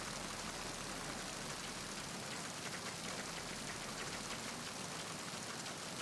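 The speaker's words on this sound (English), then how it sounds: "Rain's kind of peaceful, actually." Steady rain pours in Metal Gear Solid 2 on the tanker, a dense, even hiss of drops with a faint low engine hum beneath, continuous and fairly quiet throughout.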